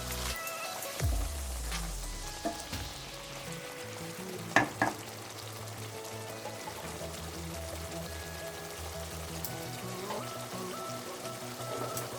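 Mixed vegetables dropped into a little hot oil for bhaji, a continuous close sizzle and crackle with a few sharp clatters of stirring midway.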